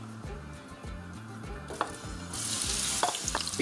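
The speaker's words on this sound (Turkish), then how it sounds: "Yağımız ısındı. Şimdi biber ve soğanlarımızı ekliyoruz." Peppers and onions hit hot oil in a pan and break into a loud, bright sizzle that builds and holds, with rhythmic stirring scrapes beneath, close and alone.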